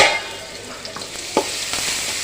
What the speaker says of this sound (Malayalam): ഇനി വെളുത്തുള്ളി ചേർത്ത് കൊടുക്കാം ചതച്ച വെളുത്തുള്ളിയാണ്